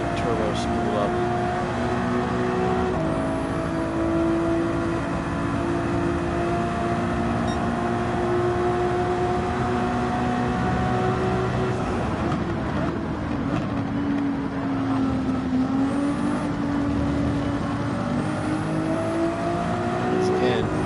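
A turbocharged race car engine in a racing video game drones steadily, holding a high revving tone that dips and climbs through gear changes and corners, loud and continuous from start to finish.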